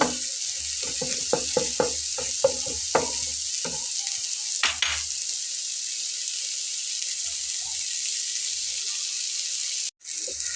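Bitter gourd frying in a pan gives a steady broadband sizzle, with a run of sharp utensil clicks and scrapes early on and then a continuous hiss left alone.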